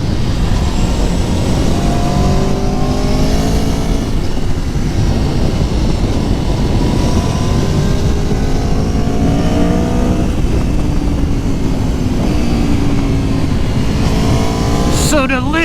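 2019 Aprilia Tuono Factory motorcycle engine accelerating hard while riding, loud continuous roar with repeated rising revs through several gear changes under heavy wind rush, steady and close throughout.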